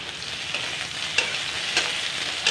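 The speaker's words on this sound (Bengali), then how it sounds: "এখন আমি এই তেলের মধ্যে দিয়ে দেব কেটে রাখা আলু। আলুগুলোকে লাল করে ভেজে তুলে নেব।" Cut potatoes frying in hot oil with a pinch of turmeric, a steady close hiss of sizzling with occasional brighter crackles and stirring clicks, and no voices.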